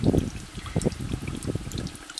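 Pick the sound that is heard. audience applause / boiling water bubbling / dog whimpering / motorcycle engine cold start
boiling water bubbling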